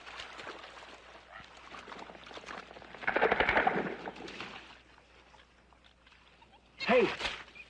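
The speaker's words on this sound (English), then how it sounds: "the jittery guardsmen who have just buried 3 of their dead start shooting blanks" Jittery National Guardsmen fire blanks in a swamp scene from the 1981 film Southern Comfort, a scatter of faint cracking shots rising to a louder burst midway, with a shouted voice near the end.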